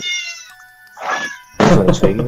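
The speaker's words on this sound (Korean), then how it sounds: "저도 지금 고양이- 갑자기 왜 울어요, 근데?" A house cat meows nearby in a few drawn-out, whining cries separated by short pauses, loud and close, with the last call rougher and stronger.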